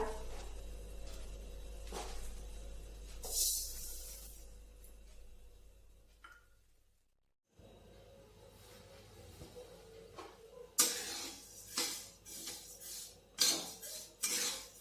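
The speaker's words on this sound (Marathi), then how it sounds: "आता आपण कढईमध्ये तीळ टाकून भाजून घेऊया।" Sesame seeds are roasted in a kadhai, with quiet clinks and scrapes of a utensil against the metal pan, a short silent gap, then a run of sharper, louder scraping and stirring strokes.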